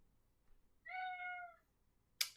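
A cat gives a single clear, close meow lasting about a second in a quiet room, followed by a brief sharp click.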